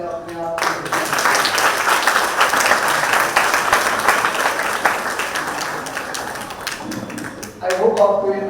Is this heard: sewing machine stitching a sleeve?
no